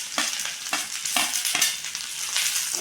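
Sliced cucumber and beetroot frying in a hot pan, a steady close sizzle broken by regular scraping strokes of a spatula, about one every half second, with no voices.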